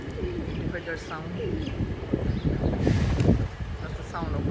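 Male pigeon-like bird giving repeated soft coos among other birds, several short calls close by, with people talking over them.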